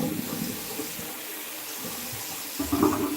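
Tap water runs steadily into a sink while fresh garden vegetables are washed, a soft continuous rush with brief louder splashes near the end and no talk.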